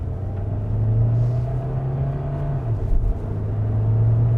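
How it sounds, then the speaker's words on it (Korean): A Kia Sorento hybrid in sport mode accelerates from low speed. A steady low engine drone and road rumble rises and holds from inside the cabin, with a brief shift in pitch midway and no talk over it. "스포츠로 놓고 가속을 한번 해볼게요"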